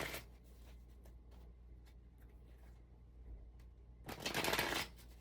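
Tarot cards shuffle quietly with soft riffling and flicks, ending in a louder, denser burst of card noise near the close.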